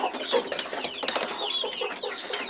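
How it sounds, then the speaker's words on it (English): Light bantam chickens cluck and chatter close by in a lively, continuous run of short calls. "I've got 2 light bantams out here and 4 light bantams inside the house."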